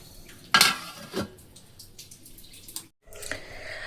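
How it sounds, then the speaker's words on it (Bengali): A cooking pot of carrot and soybean curry being covered with its lid in a home kitchen, giving a sharp metallic clank and a second softer knock, with faint kitchen clatter afterward. "এই যে এখন এটাকে আমি ঢেকে রেখে দেবো।"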